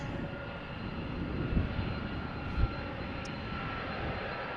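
A 29-year-old DHL Airbus A300-600 freighter jet bound for Leipzig roars at Amsterdam Schiphol Airport, a steady broad engine rumble and rush that stays loud throughout with no talking.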